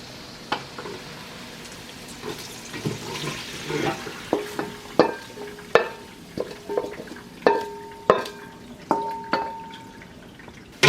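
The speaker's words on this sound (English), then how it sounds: "We drain the oil now." Oil drains and drips from fried beef pieces in a cooking pan, with a soft sizzle and a series of regular clinks and taps of a metal utensil, close and moderately loud, with no talking.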